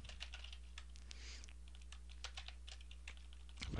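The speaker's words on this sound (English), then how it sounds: "we just type something up" Fast, continuous clicking of a computer keyboard as text is typed, close up, over a steady low hum.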